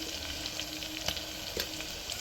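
Ginger garlic paste frying in oil for mutton keema curry with fenugreek leaves, a steady close sizzle with brief stirring clicks and scrapes.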